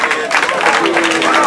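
Crowd applause for the women's podium at a running race, a brief burst of clapping mixed with voices and crowd noise.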